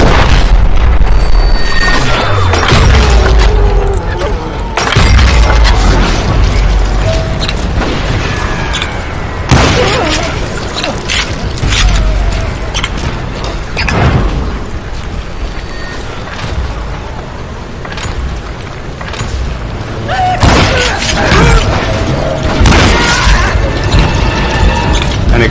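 Loud, sustained shootout in the Western game Call of Juarez: Gunslinger, with repeated sharp gunshots and booms over a dense, chaotic background of mechanical clatter and effects.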